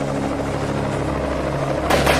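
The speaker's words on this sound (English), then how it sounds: "Damn those helicopters." Helicopters pass overhead as a loud, steady rotor thrum with close chopping throughout, in a Batman audio drama scene. The noise swells brighter near the end.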